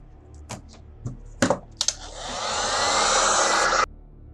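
Heat gun warming pieces of Worbla thermoplastic for a sword prop, a few sharp clicks and taps first, then a steady loud blowing whoosh lasting about two seconds before cutting off abruptly.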